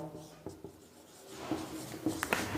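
Chalk scratching on a board during a physics lecture on electric current, a few short scrapes and taps scattered over a quiet classroom with light rustle.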